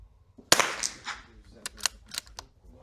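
A heavy rifle fitted with a new trigger and extra balancing weights fires at the range: one sharp nearby crack with a short tail, followed by quieter distant impact pops.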